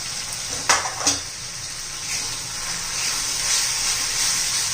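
Spiced masala for a yogurt egg curry, with coriander powder, turmeric and homemade spice mix, is stirred in a pan. A couple of sharp utensil clanks give way to a steady, growing sizzle, with no voices.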